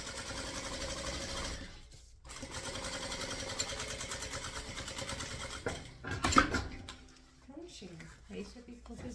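A sewing machine stitching a bag in a fast continuous run, then a short stop, another run including a reverse stitch, and a clunk as the machine halts; a voice talks quietly over it.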